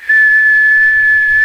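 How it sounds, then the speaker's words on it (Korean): One long, steady whistled note is held at a constant high pitch, loud and close, with no talking. "켜놓은 상태에서 제가 휘파람 이런 거"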